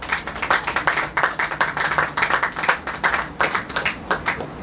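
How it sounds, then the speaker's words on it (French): Applause for the Ngomo family at a talk on Ekang ontology and totemism, a moderate group clapping in uneven bursts with a rough pulsing rhythm throughout, no speech over it. "si nous pouvons applaudir pour la famille Ngomo"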